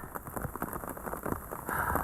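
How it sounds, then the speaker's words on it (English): Rain patters steadily on a cheap $10 shelter, a dense close crackle of drops with no talking, growing slightly louder toward the end. "It's still raining."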